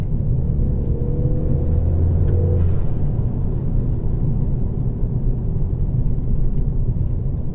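Inside a Ford Fiesta ST Mk7 fitted with a pod filter, a loud steady engine rumble under boost, with a brief rising tone early on and a short whooshing burst near the three-second mark, windows up and no talking.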